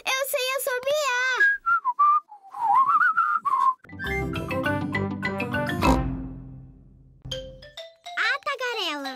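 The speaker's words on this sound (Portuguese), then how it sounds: "Isso está parecendo um assobio. Que linda melodia." Cartoon pig from Peppa Pig whistling a lilting melody, bright wavering tones in short phrases, mixed with a chiming doorbell-like ding-dong and bursts of background music, with children's voices speaking between.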